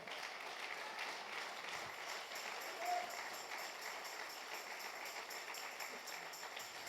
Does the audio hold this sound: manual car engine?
no